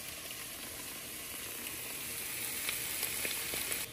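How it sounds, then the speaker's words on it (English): Steady sizzle of minced garlic cooking in a skillet, with a few soft scrapes and taps as it is stirred, moderately close and continuous throughout with no talking. "I'm going to put this in here, and then I'm going to stir it all up."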